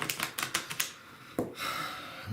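A quick run of crisp card clicks, then a short fluttering riffle as a tarot deck is shuffled close by, quiet and with no talking.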